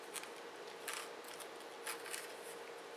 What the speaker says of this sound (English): I'm going to cut it. Then I'm going to cut it down the middle